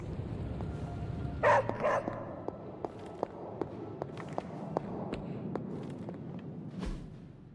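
A dog named Charlie barks a few times, sharp and fairly close, amid light rhythmic clicks and scuffling like footsteps against a low background murmur.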